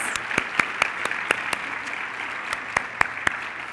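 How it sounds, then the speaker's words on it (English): Scattered, fairly sparse applause from an audience at a National Honor Society induction ceremony, with distinct individual claps standing out over a soft steady patter, moderately distant. "let's give them a nice round of applause"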